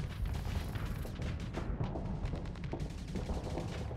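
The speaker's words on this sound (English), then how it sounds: "This thing goes on forever. It never stops shooting." Weapons fire continuously in the space combat game Starsector, a dense, unbroken rattle of rapid shots and low booms at moderate level, with no pause.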